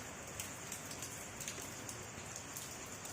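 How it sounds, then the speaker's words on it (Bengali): Light, steady drizzle falling at night under a lamppost, a soft hiss with scattered faint drop ticks, no voices. "দেখো কি সুন্দর লাগছে, বৃষ্টি হচ্ছে।"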